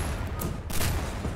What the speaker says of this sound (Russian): Это очень круто, когда ты попадаешь в такой мощной пушке.